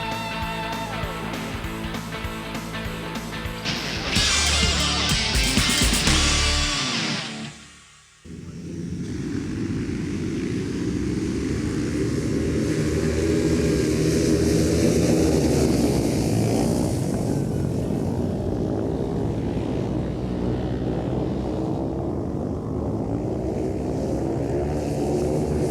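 Grass track motorcycle racing in a muddy field, including a Suzuki-powered SB8R: a loud, steady engine roar that dips briefly, then swells back into a dense, continuous snarl of racing machines.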